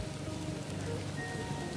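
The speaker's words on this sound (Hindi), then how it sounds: "बारिश इतना मस्त लग रहा है" Rain falls steadily at a rural bus stop, a dense, even patter of drops on surfaces that stays constant, with no voices.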